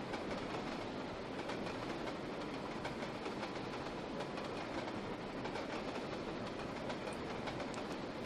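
An LMS Coronation Class steam locomotive in the Trainz: A New Era simulator slows under braking, giving a steady, dense rolling rumble with rhythmic rail clatter throughout, continuous and even, with no talk.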